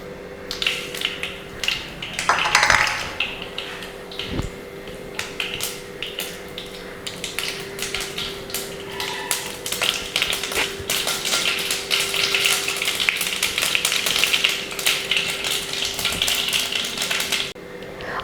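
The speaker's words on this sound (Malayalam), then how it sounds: "അപ്പോൾ കടുക് പൊട്ടി കഴിഞ്ഞിട്ടുണ്ട്." Mustard seeds splutter in hot coconut oil in a non-stick pan, with dense rapid crackles and pops running steadily for most of the stretch, close and fairly loud.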